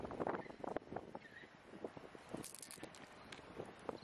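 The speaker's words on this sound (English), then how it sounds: "too windy today." Wind gusts at the seashore at low tide, a steady, faint rushing and buffeting on the microphone with scattered rustles and crunches close by.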